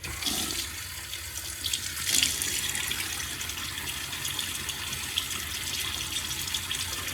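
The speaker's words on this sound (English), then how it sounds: "Let me get my face wet." Tap water runs and splashes steadily into a sink as a face is wetted before a shave, a continuous close hiss with a brief louder splash partway through and no talking.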